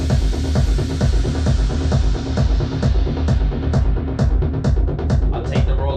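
Playback of a remix, with the intro bass line added: a dense electronic track with a heavy, steadily pulsing low-end beat and rhythmic hits driving continuously at loud, even volume.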